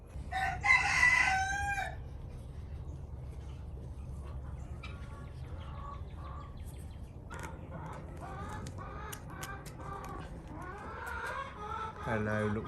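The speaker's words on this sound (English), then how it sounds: "Hello, little chicken." A rooster crows loudly near the start, followed by steady chicken clucking and scattered fowl calls from a small flock over a continuous low rumble.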